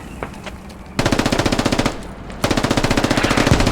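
Automatic gunfire from the video game Insurgency: Sandstorm rattles in two long, rapid, loud close-range bursts after a few scattered single shots.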